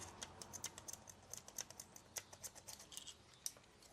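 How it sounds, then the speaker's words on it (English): Scissors snip through a cord in a DIY security-device build, giving a string of light, crisp clicks and snips at an uneven rhythm, close and fairly quiet with no talk. "So then I need to snip this cord off."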